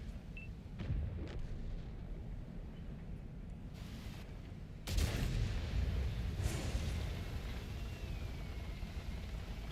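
A tank gun in a video game fires with a heavy boom near the middle, followed by a rumbling tail over a constant engine drone, with a few smaller thumps earlier.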